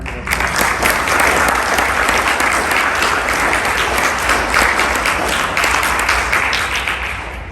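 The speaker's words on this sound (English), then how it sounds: "let's give Kevin a round of applause" Loud, dense round of applause from an audience at a merchant meeting in the Lancaster County Convention Center, rising quickly into a full, sustained roar of clapping that holds steady and eases off slightly at the very end.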